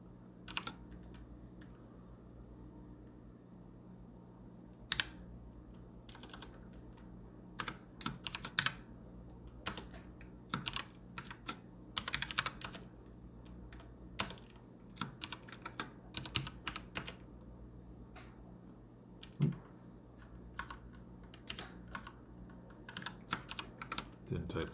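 Steady keyboard typing while coding in C, rapid close keystrokes in uneven bursts with short pauses, clear and continuous throughout.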